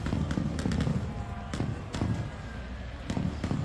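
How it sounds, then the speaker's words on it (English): Fireworks pop off near a racetrack after a NASCAR confrontation, several sharp bursts spaced irregularly over a dense, noisy crowd-like background. "can hear the fireworks going off there"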